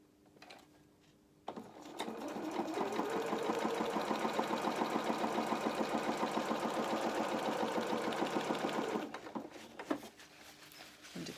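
A sewing machine runs steadily for about seven seconds, stitching a second row with a gap beside the first on a doll's playsuit, its rapid needle rhythm loud and close before it stops and quiet handling resumes.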